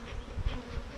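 Defensive honey bee colony buzzing close up, a dense continuous insect drone with fluctuating intensity as bees bounce off a veil.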